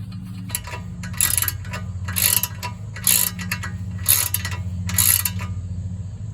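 A ratchet tightens a castle nut on the tie rod end of a 2007 Ford Edge, in five evenly spaced bursts of close, crisp clicking over a steady low hum.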